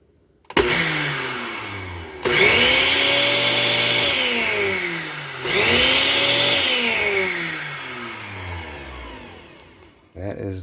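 A cheap $12 Goodwill blender motor whines loudly in repeated bursts, each one spinning up to a high pitch, holding, then winding down before starting again.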